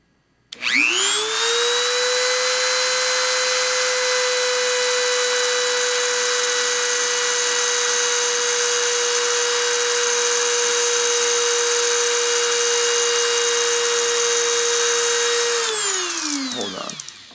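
A CNC spindle spins up to 30,000 RPM with a sharply rising whine that holds a loud, steady high-pitched tone for about fifteen seconds, then winds down as it stops.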